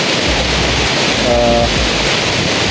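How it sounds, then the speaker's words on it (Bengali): Heavy rain pours over a street in old Dhaka as a steady, dense hiss that fills the whole stretch without pause. "মারাত্মক বৃষ্টি"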